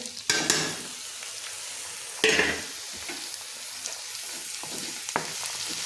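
Chopped onions frying in a pan for a home-cooked tomato-onion dish, a steady low sizzle with two louder bursts of crackle and occasional stirring clatter, close and without speech.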